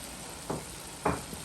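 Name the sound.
scallions added to cooking cabbage and chicken, sizzling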